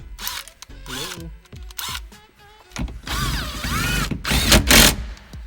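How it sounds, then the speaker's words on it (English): A Snap-on impact wrench used during a Jeep Wrangler stereo install fires in several short bursts and a longer whirring run, loud and close, with a few brief vocal sounds in between. "this snap-on impact is the shit"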